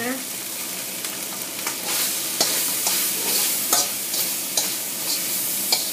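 Pork fried rice with garlic being stirred in a hot pan: a continuous bright sizzle with repeated scraping clicks of the utensil against the pan, close and alone without talk.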